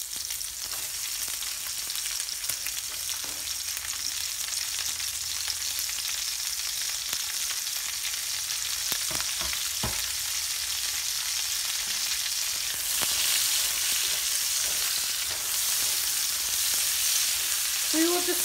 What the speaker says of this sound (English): We will just saute this for the next 2 to 3 minutes